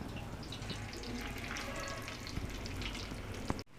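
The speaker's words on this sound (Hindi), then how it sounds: "अब इसे हम फ्राई कर रहे हैं।" Chicken shami kabab patties dipped in egg sizzle in hot oil, a soft steady crackling fry that goes on without pause and ends in a brief clunk.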